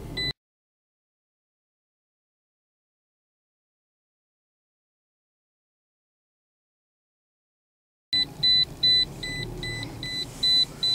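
Car backing into an off-road parking spot, a short burst, then near silence, then an engine rumble with a regular series of repeating reversing beeps over it for the last few seconds.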